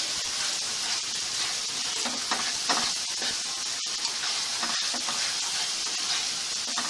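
Spice masala frying in oil for a Bengali tengra fish curry with tomato and potato, a dense hissing sizzle close up with occasional faint scraping stirs throughout.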